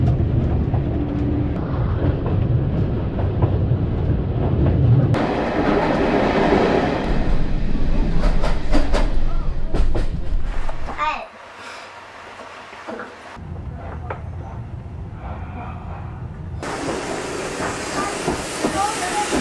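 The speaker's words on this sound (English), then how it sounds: "So, we're travelling on the Dartmouth Steam Railway" Heritage steam train on the Dartmouth Steam Railway running through the UK countryside along the River Dart estuary, with a steady loud rumble and rattle of the carriages, a hissing stretch, a brief quieter lull midway, and voices in the background.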